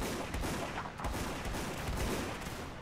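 Massed musket volleys from ranks of soldiers in the Napoleonic-era battle game Mount and Blade Warband, a dense, continuous crackle of overlapping gunshots with repeated bursts, loud and close without any speech.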